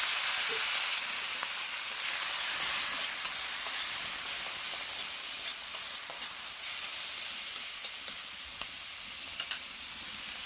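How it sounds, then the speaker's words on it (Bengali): Freshwater snails stirred in hot oil with bay leaves and five-spice seasoning, a continuous close sizzle and hiss with occasional stirring scrapes, no voices. "যে ঘেঁড়িটা নিয়েছিলাম ওইটা একটু তেলে নেড়ে নিলে ভালো হবে"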